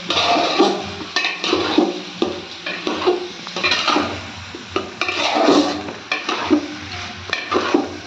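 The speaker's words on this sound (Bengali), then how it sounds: "চালটাও ভালো করে কষিয়ে নেব।" Soaked rice being stir-fried in a pot for chicken pulao, with a soft sizzle and rhythmic scraping of a spoon against the pot, close and fairly loud, without any speech.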